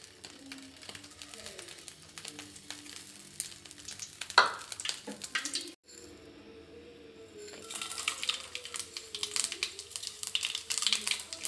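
Oil poured into a hot pan while cooking ulava charu, a horse gram dish, hisses into a steady, moderate sizzle with crackles and stirring clatter that grows busier toward the end.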